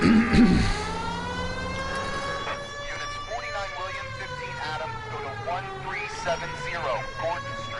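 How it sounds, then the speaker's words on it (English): Police car siren wailing loudly in the video game L.A. Noire, a continuous rising and falling tone held across the whole stretch with a voice talking over it at the start. "Can you not hear my fucking sirens,"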